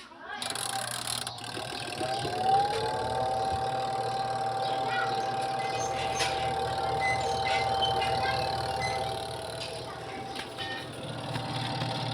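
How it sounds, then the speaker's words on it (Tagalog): Spin dryer motor of a twin tub washing machine running after repair, a steady mechanical whir with a rising whine that settles into a constant tone, close and moderately loud, with faint rattling. "Yan guys ay gumagana na yung spin motor natin."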